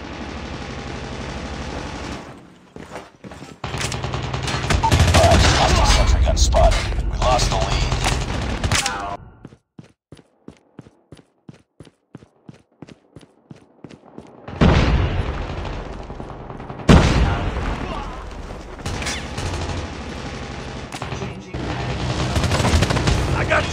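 Rapid automatic gunfire and bursts of shooting in Call of Duty Mobile, loud fusillades broken by a stretch of fast, evenly spaced shots, likely the sentry gun, before heavy firing resumes; game voice announcements sound briefly.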